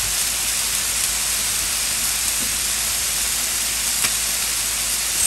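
Onions laid on a grill beside chicken kebab skewers, with a constant loud sizzling hiss filling the whole stretch and only a couple of faint taps.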